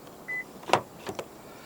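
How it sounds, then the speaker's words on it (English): A short electronic beep, then a mechanical clunk and a couple of quick clicks as a 2023 Honda HR-V e:HEV locks via its keyless front door handle, in a quiet setting. "To lock the car, press the ribbed area on any of the front door handles."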